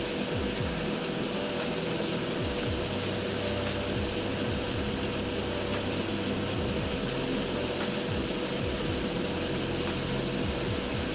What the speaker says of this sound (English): I'm barely opening up the trigger on this airbrush when I'm going through on these, just like a slight amount